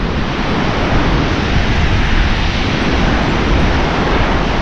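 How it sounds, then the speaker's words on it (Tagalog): Strong ocean surf pounds continuously at Bukana beach, a loud, dense wash of breaking waves mixed with wind rumble on the microphone, with no pauses across the stretch. "Ang lakas pa rin ang alon."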